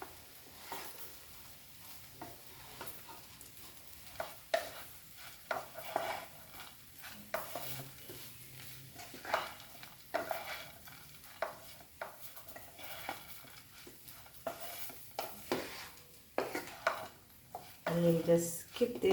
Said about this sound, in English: And then just mix this poha.